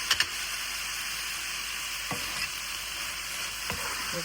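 Peppers and tomatoes sizzling in a hot pan, a steady soft frying hiss with a few light clicks of stirring, close and fairly quiet, no talk.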